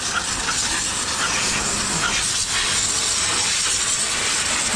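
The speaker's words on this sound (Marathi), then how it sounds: "इंजिनला पाणी मारून आण म्हणला फिटर" A hose sprays water onto a vehicle's engine ahead of repair work on a locked engine, producing a continuous loud rushing hiss that holds steady and close throughout.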